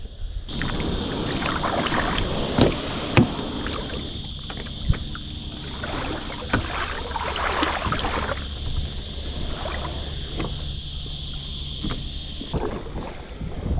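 A kayak moves across an estuary on a fishing outing, with soft paddle splashes and water movement beneath a steady high hiss and gusts of wind on the microphone, plus occasional knocks against the hull.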